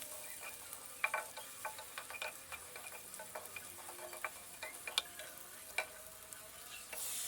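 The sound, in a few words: stirring and frying sliced chili with garlic and onion in a pan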